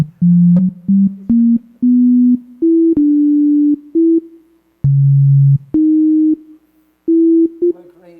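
A browser-based Web Audio API synthesizer plays blues notes at a tech conference: a string of pure, steady tones stepping up and down in pitch, each held briefly with short gaps between, clear and fairly loud.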